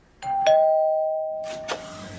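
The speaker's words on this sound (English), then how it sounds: "Ding dong, baby, doorbells ringing." A two-tone ding-dong doorbell chime rings in a doo-wop song, clear and close, with the second tone sustaining and fading, followed by a brief burst of other sound near the end.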